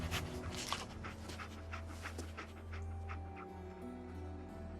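A dog in the post-apocalyptic video game Fallout pants quickly and steadily, with soft whimpers, over a constant low background drone and no talking.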